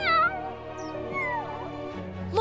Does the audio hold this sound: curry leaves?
no